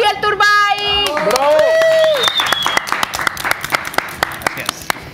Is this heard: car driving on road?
no